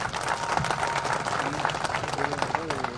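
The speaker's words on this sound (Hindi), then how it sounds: "तो आर्यन OPS के लिए एक बार जोरदार ताली बजाएं" An audience claps loudly at an event in India, steady dense applause throughout while a voice talks over it.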